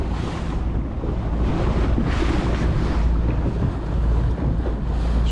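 Rising sea waves wash around a small fishing boat off Frontignan in late November, a loud continuous roar of surf and water mixed with heavy wind buffeting the microphone.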